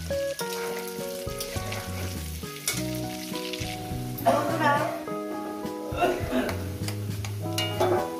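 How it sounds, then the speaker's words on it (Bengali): Potato pieces frying in oil for a chicken kosha, a soft continuous sizzle running beneath prominent background music, with a person talking over it. "আলুগুলো আমি সুন্দর করে লাল লাল করে ভেজে নেব"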